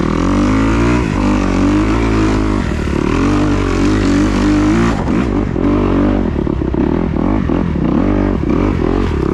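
A 2021 Kawasaki KX250X dirt bike rides a muddy hillside singletrack, its engine droning loud and close throughout, rising and falling with throttle changes and revving harder in the later stretch.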